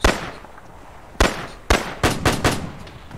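Mortar fire in a World War II combat video game at a river bridge, a series of sharp booming blasts, one alone and then four in quick succession, loud and close.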